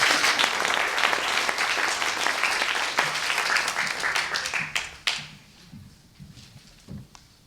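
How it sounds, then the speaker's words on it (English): An audience at a science communication contest applauds a speaker, with dense clapping for about five seconds that thins to a few scattered claps before quiet. "give another huge round of applause for Jan Kalina"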